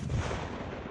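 A single 7.62x39 AK rifle shot fired at a Level 4 ballistic police car door panel, a short loud blast with a quick decaying tail, alone.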